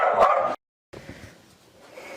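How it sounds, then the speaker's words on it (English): Dogs barking at home, a loud burst of yips and barks up close, then a brief silence before fainter barking and household noise continue. "dogs went nuts barking"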